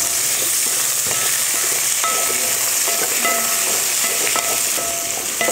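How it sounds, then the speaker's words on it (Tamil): Okra for vendakkai puli kulambu sautéing in oil, giving a constant loud crackling sizzle with occasional soft utensil clinks and scrapes, and no voices. "வெண்டைக்காய் வதக்கிறதுக்கு கொஞ்சம் எண்ணெய் சேர்த்துக்கலாம்"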